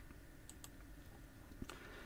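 Quiet computer keyboard presses for a Ctrl+Shift+I shortcut on a PC, a few soft clicks at uneven moments over low room hiss.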